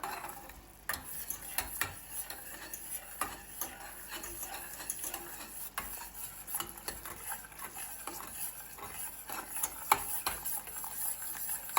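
Quiet scraping and soft clinks of a spoon stirring melting sugar for lollipops in a pot, with a faint sizzle underneath and no talking.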